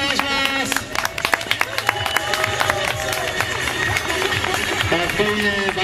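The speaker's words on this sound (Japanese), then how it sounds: "みんなで拍手お願いします。" A grandstand crowd claps and cheers through a stock car's winning lap at the World Drome 2009 race in Japan, a continuous busy clatter under a droning engine and an announcer's amplified voice.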